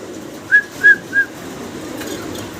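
A male Lahori pigeon gives three short, clear coos in quick succession, fairly close, followed by quiet background.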